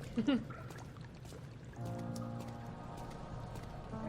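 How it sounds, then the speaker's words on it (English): Oil drains onto the floor in the horror game Amnesia: The Dark Descent, a liquid pouring and splashing that settles into a steady trickle. "It's really good to just have your oil just drain onto the floor."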